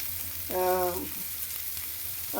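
Onions being sautéed in a pan for rice, frying toward golden brown, giving a steady close sizzle throughout with a short tonal whine partway through.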